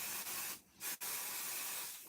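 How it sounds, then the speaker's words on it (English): Hand spray bottle misting a card during a foiling craft project, a series of short hissing bursts, one brief puff followed by a longer spray, close by and fairly soft. "So let me go ahead and spray this guy down."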